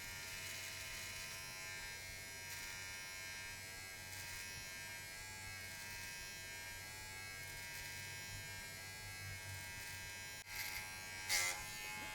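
Electric hair clippers fitted with a 1.5 guard buzz in a steady, continuous hum at close range during a self-administered buzz cut, with a brief clatter near the end and no speech.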